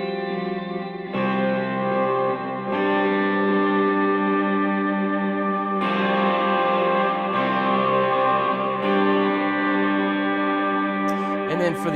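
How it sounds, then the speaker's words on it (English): Simple electric guitar chords played through an Electro-Harmonix POG octave generator with reverb, forming a loud, thick, continuous wash of sustained tone that shifts at each chord change. "I have this electroharmonics pog, which is the octave generator on, and a reverb on, so it's just a big wash of sound"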